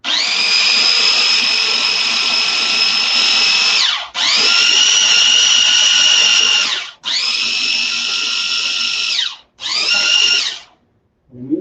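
A kitchen blender chopping and grinding banana runs in four loud whirring bursts, each steady and high-pitched, with short gaps between them and the last burst cut shorter.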